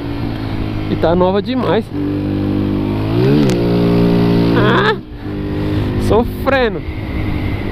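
A 125cc Honda Fan motorcycle engine revs in repeated rising and falling bursts, loud and close, with someone talking over it.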